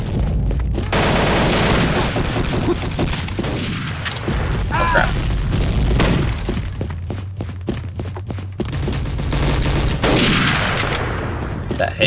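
Grenade blasts and gunfire in the Day of Defeat shooter, with booming thuds and rapid shots stacking into a dense, loud barrage that runs nearly unbroken, a voice briefly exclaiming over it.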